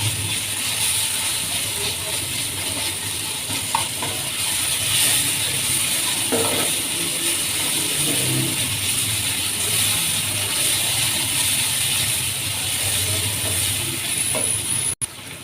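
Onions fry in a pan for chicken koyla karahi, giving a steady, even sizzle and hiss that runs throughout with a few faint clinks.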